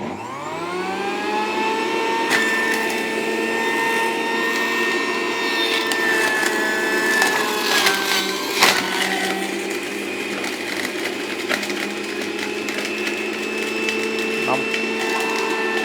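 A low-cost electric juicer crushing grapes: a steady, loud motor whine runs throughout, with crackling, splintering crunches as the fruit breaks up.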